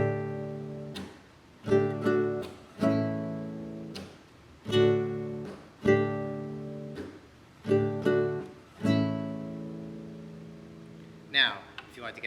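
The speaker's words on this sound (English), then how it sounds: "the slaps are literally just tapping over top or slapping down onto the 6 strings like this" Acoustic guitar strummed in a pattern, with percussive slaps of the hand down across all six strings; steady rhythmic chord strums punctuated by sharp slap hits, close and clear, with no talking.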